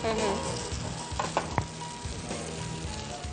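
Dahi kabab tikki frying in ghee gives a steady close sizzle, with a few brief clicks partway through and no voices.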